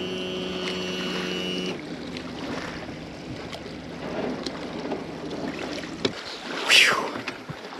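Gusty wind buffets a fishing boat on a lake, a steady rushing roar with water lapping below, swelling and easing over several seconds, with a sharp hiss burst near the end and no voices.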